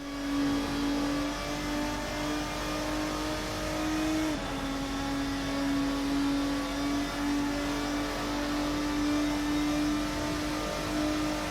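A GT race car howls down the straight at Spa in the Assetto Corsa sim, one steady high engine note held loud and close, with a brief shift in pitch partway through and the drone carrying on unbroken.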